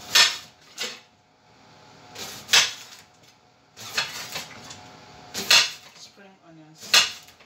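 A knife slices spring onions for a vegetable salad, giving about six irregular bursts of crisp chopping and light clatter against the board, close and moderately loud, with quiet pauses between.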